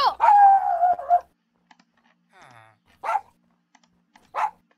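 A dog barking indoors, a drawn-out whining yelp followed by a few short, sharp barks separated by silence, with faint clicks in between.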